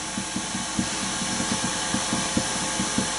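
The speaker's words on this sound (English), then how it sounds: "I'm going to take the most of it here with my spindle gouge" A spindle gouge cuts a wooden chess queen spinning on a lathe, a steady motor drone with rhythmic scraping ticks repeating several times a second, close and fairly loud.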